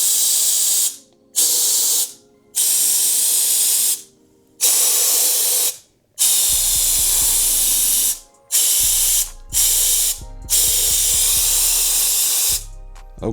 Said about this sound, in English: Spray all that dust up out of there.